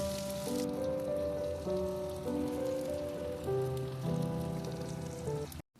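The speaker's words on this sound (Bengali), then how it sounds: "পনিরটাকে ভালো করে ভেজে তুলে নেওয়ার পর ওই তেলটার মধ্যেই আমরা দিয়ে নিচ্ছি কিছুটা পরিমাণ আদা বাটা আর পেঁয়াজ কুচিগুলো।" Ginger paste and chopped onion hit hot oil left over from frying paneer for chilli paneer, giving a steady, even sizzle that continues under background music before stopping abruptly at the end.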